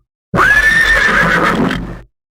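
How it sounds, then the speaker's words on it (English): A loud, close horse neigh played as a stream sound alert, one long whinny lasting about a second and a half that wavers and then cuts off sharply, with no talking. "That was angry horse noise, I believe."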